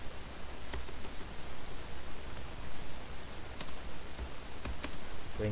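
Typing on a computer keyboard produces a dense, steady patter of close, soft key clicks with a few sharper taps.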